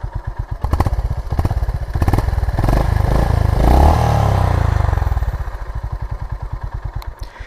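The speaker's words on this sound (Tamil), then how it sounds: "இன்ஜின் சவுண்ட் எப்படி இருக்குன்னு கேளுங்க." A motorcycle engine ticks over with a steady, close thumping pulse, then swells into a sustained rev through the middle before easing back to its rhythmic idle.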